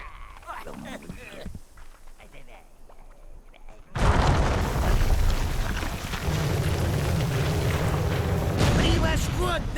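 A loud explosion in the Overlord video game bursts in abruptly after a quieter stretch of in-game voices, then a sustained heavy rumble continues to the end.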